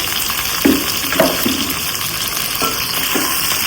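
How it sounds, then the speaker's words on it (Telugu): Chicken pieces fry in oil in a pot, giving a steady moderate sizzle with a few soft stirring clicks and splashes scattered across it. "ఇప్పుడు చికెన్ వేస్తున్నాను చికెన్ కొంచెం ఆయిల్లో బాగా మగ్గిన తర్వాత"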